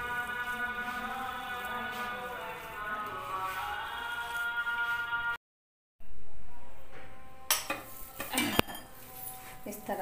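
Grated bottle gourd is mixed with flour in a bowl, giving soft, steady scraping and squishing with some clinks of a utensil, then a short break and louder, sharper clattering stirs near the end.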